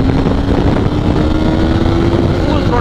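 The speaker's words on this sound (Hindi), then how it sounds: "फुल थ्रॉटल है यहाँ पे, थर्ड गियर में तो फोर्थ में भी फुल थ्रॉटल।" KTM 390 motorcycle at full throttle in third and fourth gear, a loud steady engine roar with a rising tonal whine, heavy wind buffeting throughout.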